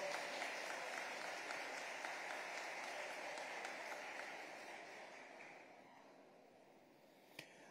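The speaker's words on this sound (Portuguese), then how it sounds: "vamos aplaudir a palavra do Senhor" Church congregation applauding the word of the Lord, a dense steady patter of many hands that slowly thins and fades toward the end, with one sharp clap near the finish.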